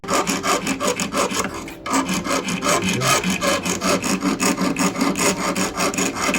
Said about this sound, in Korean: 이렇게 약간 울퉁불퉁할 수 있으니 이 면을 다듬어주는 작업을 하고 있습니다